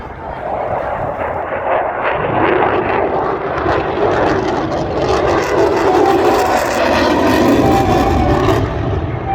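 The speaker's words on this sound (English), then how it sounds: "That F-22 is coming straight for us, guys." An F-22 fighter jet passes at an airshow in Texas, its loud, sustained engine roar building and swelling over several seconds, heard close and alone without talk.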